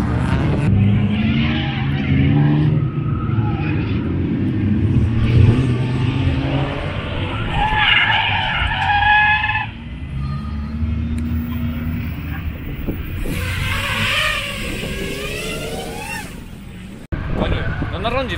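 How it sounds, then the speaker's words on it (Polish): Cars driving in at a crowded car event, engines rumbling and revving at close range among a noisy crowd, with people talking over them throughout. "Wjechali teraz, czerwone dwa auta."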